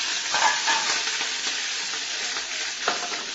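Cumin seeds and green chili sizzle steadily in hot oil, a dense, continuous frying hiss with a few brief crackling swells, close and alone with no voices.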